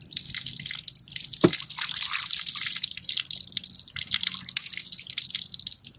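Orange bath bomb water being poured off, heard as steady close trickling and splashing with a single sharp drip or knock early on, continuous throughout.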